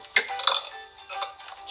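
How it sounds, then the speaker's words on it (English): Short burps from a person during a game of burping on a gaming channel, a few brief guttural bursts spaced apart, moderately loud and close with little else around them. "You have 7 seconds to burp."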